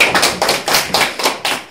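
A church youth group claps for a testimony: several bursts of hand clapping in a quick, uneven rhythm, fairly close and loud, with no voices heard.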